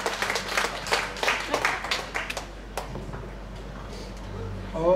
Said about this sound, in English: the clap sound just now sounded a bit sleepy